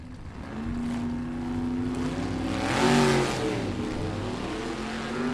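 A blown 383 small-block 1940 Willys drag car launching at a vintage drag race, a loud sustained engine roar that swells to a peak partway through, then holds steady.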